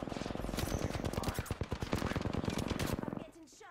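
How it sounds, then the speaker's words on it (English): Rapid automatic gunfire in the shooter game Apex Legends, a close, loud stream of sharp shots lasting about three seconds before cutting off abruptly. "I'm getting shot at."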